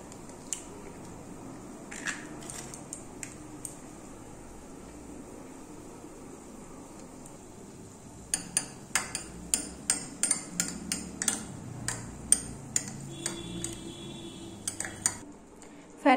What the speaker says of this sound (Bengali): ডিমটাকে ফেটিয়ে নিচ্ছি